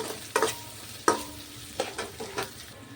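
Onion, chilli and peanuts fry in a pan while a spoon scrapes and knocks through them in a few distinct strokes. A soft sizzle runs underneath, close and fairly quiet, with no talking.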